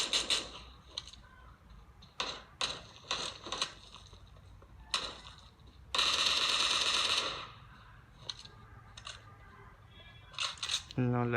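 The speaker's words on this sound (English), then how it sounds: "Let's kill this bot with a pistol." Pistol shots in a mobile shooter game played on a Huawei Y6 Prime 2019 phone, sharp repeated gunshots in irregular bursts with one longer rapid volley, mixed with someone speaking.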